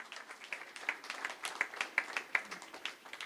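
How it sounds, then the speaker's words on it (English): Audience applause at a literature festival auditorium session, a steady wash of many hands clapping at moderate distance with scattered sharper claps standing out, sustained for a few seconds with no talking. "give them a big round of applause"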